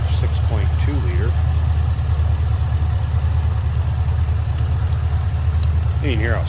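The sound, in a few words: supercharged 6.2 liter Chevrolet Camaro SS engine idling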